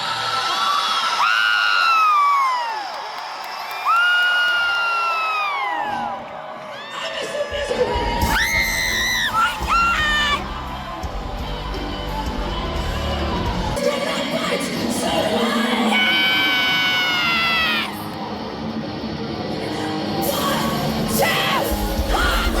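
Rock concert crowd at a show screaming, yelling and cheering loudly and close, with whoops and shrill shouts rising over the band's music throughout.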